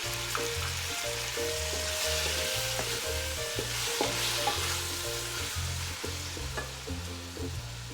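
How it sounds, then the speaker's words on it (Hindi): Three medium chopped tomatoes frying in a pan with ginger and garlic, a soft continuous sizzle with occasional stirring scrapes over faint rhythmic background music. "अब हम इसमें डालेंगे टमाटर जो हमने काट के रख लिए थे।"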